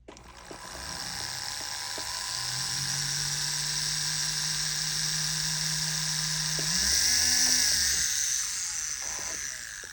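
A small rotary drill whirs steadily for several seconds at a high pitch while drilling out a pin in a San Marco bracelet, rising briefly near the end before winding down.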